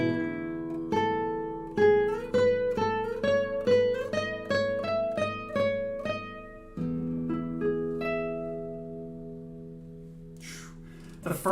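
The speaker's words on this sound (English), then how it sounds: "Here's the sound of this 2014 Antonio Marin Montero." A 2014 Antonio Marin Montero classical guitar rings out in a slow sequence of plucked notes and chords, clear and close, the last chord left to decay into quiet.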